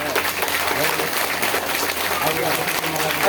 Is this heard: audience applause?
yes